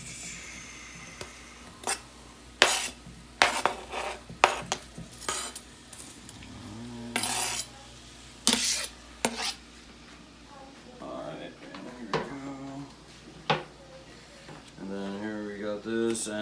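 A knife julienne-cutting onion on a board while preparing a grilled chicken sriracha wrap: sharp, irregular chopping knocks, some in quick bursts, with a person talking throughout.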